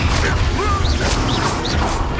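Spells cast in Hogwarts Legacy, including blasting and fire spells, give a continuous loud swirl of magical whooshes and impacts with rising swept tones, all dense and overlapping.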